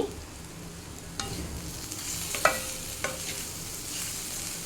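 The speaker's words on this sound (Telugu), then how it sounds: "సాల్ట్ వేసి ఒక రెండు నిమిషాలు వేయించాలి" Oats with salt fry in a pan for mango pulihora, a soft, low sizzle with a few scattered clinks and scrapes of stirring, quiet and close with no voices.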